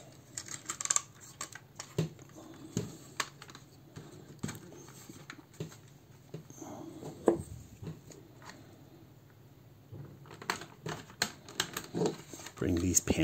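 Plastic parts of a Moon Studio Radiatron transforming toy click and snap as they are pulled out and folded in, a string of small, close, irregular clicks and taps, faint and mostly alone.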